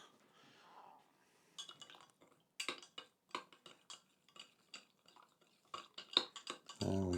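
Ingredients for a skillet pizza, including a spoonful of sugar, stirred in a bowl: a run of light clinks and scrapes of a utensil against the bowl, close and irregular, with no talking.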